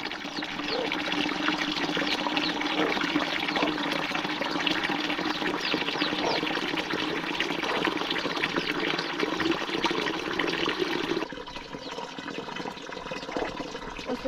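Water running from a small tap in rural Nepal, a continuous close trickle and splash that thins out toward the end.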